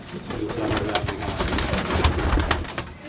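Surkh ambersire pigeons coo softly in a loft, a few low throaty rolling calls close by over a rustling background.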